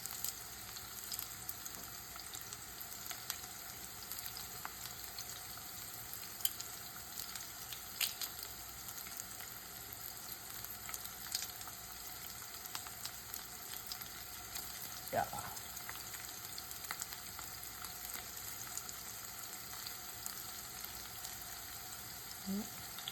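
Crushed garlic fries in a pan with a steady, even sizzle and faint clinks now and then, continuing without a break for the whole stretch.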